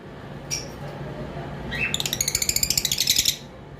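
Lovebirds chirp in a rapid, rhythmic run of bright tweets that builds after a few scattered calls, heard against a steady low background hum.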